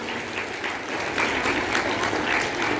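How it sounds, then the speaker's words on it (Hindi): An audience claps for a prize winner at a school prize-giving in Muzaffarpur, steady dense applause lasting a few seconds, moderately loud and growing slightly fuller partway through. "चलिए ताली बजाइए इनके लिए।"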